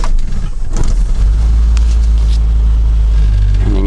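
A 1985 Mazda B2000 ute's engine runs up close after a choke-free start, a loud steady low rumble with a slight rattle throughout.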